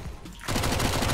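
Rapid automatic gunfire in the video game CS:GO breaks in after a short quieter moment, a dense burst of loud repeated shots that continues to the end.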